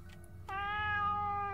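A video game cat meows once in a sustained, clearly pitched call that starts abruptly and holds steady over a low background hum, with no voices present.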